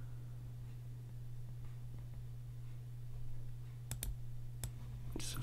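Several sharp computer mouse clicks near the end, made while drawing a vector sunburst in Photoshop, over a steady low hum with no talking.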